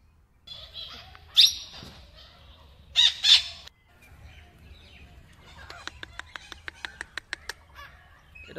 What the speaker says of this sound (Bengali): এইগুলো কি পাখি? এটা আমাদের ইন্ডিয়ান প্যারট,